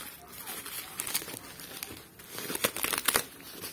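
Packaging of commemorative 2 euro coins being opened, giving close crinkling and tearing bursts of plastic and paper that come in irregular rustling clusters and grow busier toward the end.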